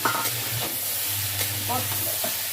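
Oil sizzles steadily as peas fry in a pan, with a few stirring scrapes and clinks of a utensil.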